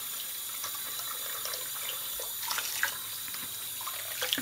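Cool tap water runs steadily into a wash basin, a continuous bright splashing hiss with small gurgles and drips, close and alone without talk.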